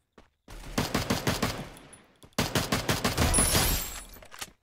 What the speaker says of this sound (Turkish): Aşağıdan da biri sıkıyor.